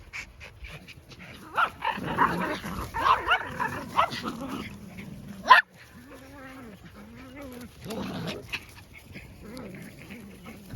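A bold, confident dog barks in scattered bursts, some sharp and close, others softer yips and whines, with quiet pauses between and a person talking in the background.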